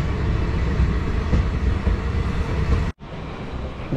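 Rakes of the Semmozhi Express roll past at a station with a steady, loud rumble and rattle, cut off abruptly by a brief drop near the end before the noise resumes.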